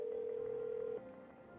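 In the video game No I'm Not A Human, a telephone gives one steady, faint electronic tone that cuts off abruptly partway through, leaving quiet room noise.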